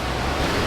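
Ocean waves wash onto a beach, a broad steady rushing surf noise with some wind against the microphone, close and fairly loud, with no talking.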